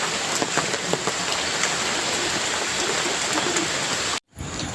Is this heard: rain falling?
yes